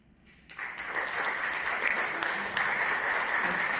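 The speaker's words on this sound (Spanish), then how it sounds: "Muchas gracias por los aplausos" Applause at the Ticas Poderosas 2025 awards ceremony starts after a short quiet moment and builds into a steady, full round of clapping from a seated audience, with no speech over it.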